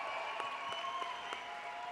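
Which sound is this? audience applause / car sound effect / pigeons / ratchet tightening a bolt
audience applause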